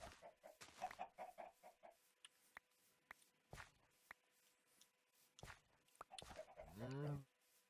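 Chicken clucking in the video game Minecraft, scattered short clucks and footsteps under ongoing talk, ending in a louder drawn-out squawk.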